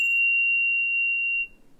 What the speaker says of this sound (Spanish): Pero Pablo, cuando estaba con su perro y tocaba la campana